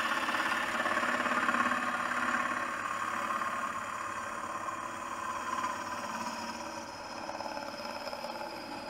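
A wood lathe spins a hollow form at about 700 RPM, giving a steady, close mechanical drone with a faint rough texture of cutting. Loudness swells gently and there is no talking.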